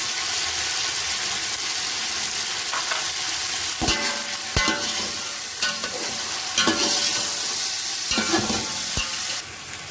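Chicken and onions frying in a pot for Afghani Kabuli pulao, a steady loud sizzle with repeated scraping stirs and clanks of the spoon against the pot, no talking.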